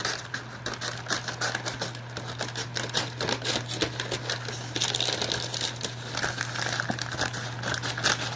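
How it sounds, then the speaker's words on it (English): Scissors snipping paper into strips for homemade guinea pig toys, a steady run of close, crisp cuts and crinkles over a low constant hum. "You just cut a strip across."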